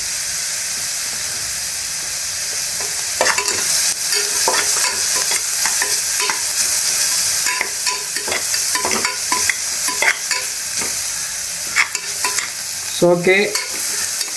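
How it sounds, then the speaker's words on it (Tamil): Sautéing in oil in a pan brings a loud, continuous sizzle with hiss and repeated scraping stirs, and a voice speaks briefly. "இப்போ வதக்கிட்டே இருக்கணும்."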